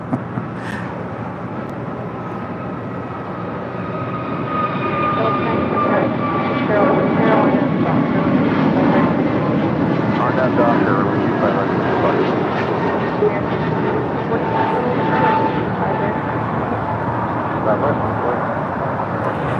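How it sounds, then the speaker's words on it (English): An Alaska Airlines Airbus A321neo departs for Newark, its engines a broad, steady roar that swells after a few seconds and holds loud and near throughout. "This is Alaska Airlines 286 departing to Newark on an A321neo."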